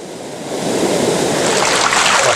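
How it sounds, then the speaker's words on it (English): The River Ffyddion at Dyserth rushes and churns in a fast, raging flow, a steady, loud broadband roar heard close by that swells slightly louder, with no voices. "Like I say, the water is, it is raging"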